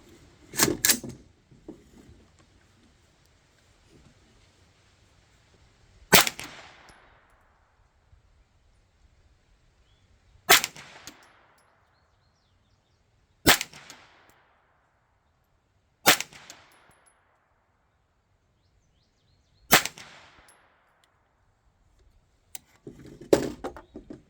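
An Anderson AM-9 pistol firing S&B 115 grain rounds at a range, about six sharp, loud shots with short echoing decays, spaced several seconds apart over a quiet background.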